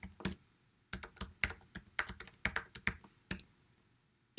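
Typing a command on a computer keyboard, a quiet, close string of irregular key clicks in quick bursts with short pauses between them.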